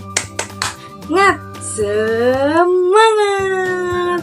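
A "tepuk semangat" spirit clap chant at a children's storytelling session: a few quick, sharp claps up front, then a loud, drawn-out chanted voice over a steady background music bed.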